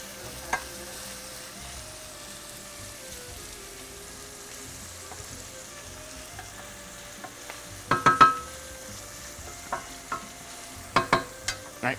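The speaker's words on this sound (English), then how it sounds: "I'll just let that cook down for a little bit, stirring occasionally over the next, say, 5 minutes" Onions and garlic fry in a pan with a low, continuous sizzle, broken by bursts of scraping and knocking as a utensil stirs them, loudest around the middle and again near the end; no one talks.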